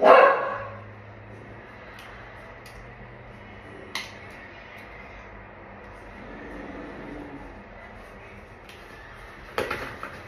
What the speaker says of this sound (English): My dog's now sniffling in my bathroom.